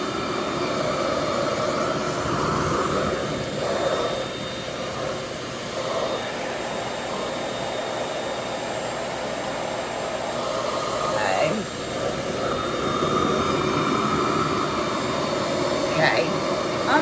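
A RevAir reverse-air hair dryer runs on setting 3, giving a steady, loud airy whoosh and drone throughout with slight shifts in tone as the hair moves, while a voice is briefly heard.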